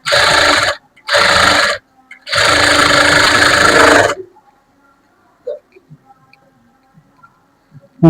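Sewing machine stitching lining cloth in three close, loud bursts: two short runs and then a longer one of about two seconds, followed by near silence broken only by faint ticks and handling sounds.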